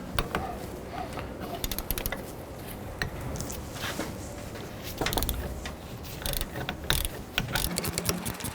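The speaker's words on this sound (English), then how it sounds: "Using a 15 millimeter socket and ratchet, we're going to go ahead and remove this lower bolt here." Socket and ratchet loosening a lower alternator bolt on a 2004-2009 Dodge Durango, a fast continuous run of close ratchet clicks throughout.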